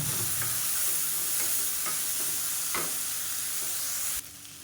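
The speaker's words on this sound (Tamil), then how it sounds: "லேசாக ஒரு பரட்டு பரட்டி விட்டுக்கலாம்" Soaked rice and lentils are stirred in a hot pan, giving a steady close sizzle with scraping spoon strokes and light clatters throughout, ending abruptly in quieter hiss.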